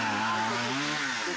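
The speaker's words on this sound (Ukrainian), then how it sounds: "як працює пилка" A chainsaw cuts through fallen pine trees after a storm in a village, its engine whining loud and close with a steady, slightly wavering pitch throughout.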